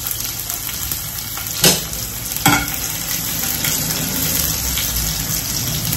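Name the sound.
crushed garlic and cumin frying in oil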